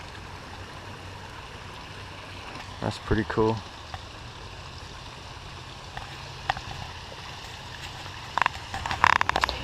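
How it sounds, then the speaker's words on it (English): Water rushes steadily down a giant sluice box at Pioneer Park in Fairbanks, Alaska, a continuous outdoor wash under brief nearby talk and a few passing voices. "Check out the water coming down the giant sluice box."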